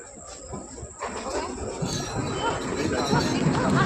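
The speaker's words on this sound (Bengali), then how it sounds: "ওই যে আমাদের ট্রেন মামা ঢুকছে" A train pulls into a station, a rumbling approach with high squealing wheels that grows steadily louder over a few seconds.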